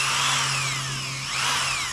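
A power drill with a 3/16 drill bit bores into wood while making a knife tang, whining loud and steady close by for two seconds with a slight pitch dip midway, no voices.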